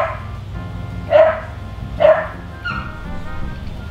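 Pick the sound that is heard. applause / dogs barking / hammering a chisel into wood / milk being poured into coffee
dogs barking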